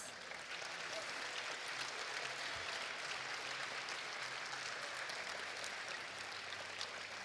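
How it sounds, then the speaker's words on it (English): A high school assembly audience applauds to honor veterans, an even, sustained wash of clapping that stays fairly faint and distant throughout. "Let's give another round of applause to recognize all the veterans in our audience."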